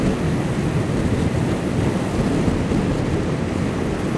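Loud, steady roar of wind buffeting the microphone while riding a 2012 Suzuki SFV650 Gladius motorcycle, a continuous broadband rush that covers everything else for the whole stretch.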